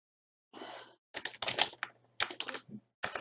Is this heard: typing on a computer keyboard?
yes